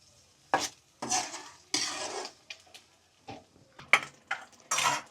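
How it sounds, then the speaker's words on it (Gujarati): Cashew and garlic curry gravy stirred in a pan with a spoon, a series of scraping, sizzling strokes in irregular bursts, close and fairly loud, with no talk. "ગ્રેવી સડી જાય ત્યાં સુધી આપણે આવી રીતના હલાવવાનું"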